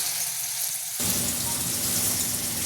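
Spices sizzle loudly in a pan with hot water as they are fried for a hotel-style masala, with a sudden burst of hissing bubbling after a quieter start, continuing close and steady.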